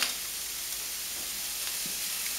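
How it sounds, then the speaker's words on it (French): Steady hissing sizzle of a hot pan as white wine goes in to deglaze browned veal for émincé à la zurichoise, an even broad wash of frying noise with a few faint stirring scrapes, close and alone. "On va déglacer avec le vin blanc."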